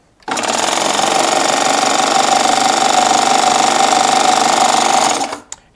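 A Baby Lock Triumph serger stitches a chain cover stitch, running as a steady, loud mechanical whir for about five seconds before stopping, with no talking over it.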